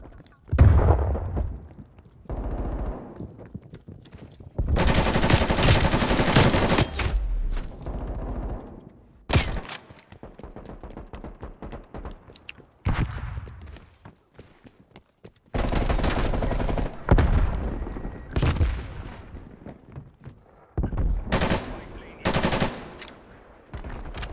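Loud bursts of automatic gunfire from the video game Call of Duty Cold War, fired through iron sights in several long volleys separated by short pauses, with a few single shots between.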